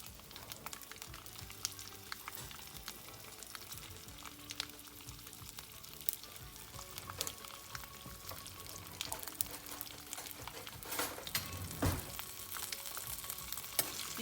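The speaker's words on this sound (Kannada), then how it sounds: "ಆಮೇಲೆ ಒಂದು ಮೆಣಸಿನ್ಕಾಯಿನೂ ಮುರಿದು ಹಾಕ್ಕೋಬೇಕು ಹಾಗೆ ರೆಡ್ ಹಾ ಕೆಂಪು ಮೆಣಸಿನ್ಕಾಯಿನೂ ಹಾಕ್ಕೋಬೇಕು" Spices and broken red chilli temper in oil for cucumber palya, giving a faint, continuous crackling sizzle with scattered pops and occasional stirring scrapes throughout.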